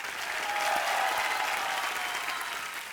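A studio audience applauds loudly to welcome Asha Parekh on a comedy show stage. A dense, sustained wave of clapping swells slightly and then eases toward the end.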